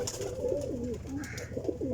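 Pigeons coo in a low, rolling series of repeated warbling calls, close and fairly loud, with a soft steady hum of background noise and no one talking.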